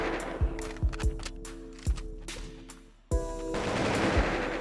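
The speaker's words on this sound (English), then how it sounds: "let me show the recoil of the guns" Gunfire in an old 3D web-browser first-person shooter, several separate sharp shots with booming tails, followed by a louder sustained burst of rapid fire.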